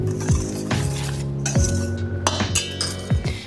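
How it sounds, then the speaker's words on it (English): A whisk clinks rhythmically against a bowl while mixing pumpkin pie spice, baking powder and baking soda, giving bright, ringing metallic taps repeating every half second or so, close and fairly loud with no talking. "I'm just gonna whisk them together."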